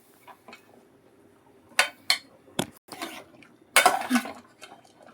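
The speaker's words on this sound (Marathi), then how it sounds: "आता हे मिक्स करून घ्यायचं व्यवस्थित." A spoon stirring moong dal and bottle gourd in a metal pot, giving several sharp irregular clinks and scrapes against the vessel, close and fairly clear against a quiet kitchen, with no talking.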